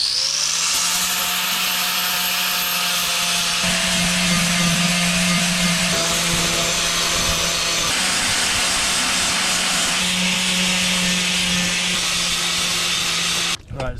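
An angle grinder fitted with 40 grit discs grinding down welds on a car body, a loud continuous high-pitched whine and abrasive roar close by, steady with slight pitch shifts as pressure changes, cutting off abruptly at the end.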